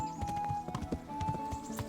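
Horse hooves clip-clop in a quick steady rhythm in the medieval video game Kingdom Come: Deliverance, soft and fairly close over a faint constant tone.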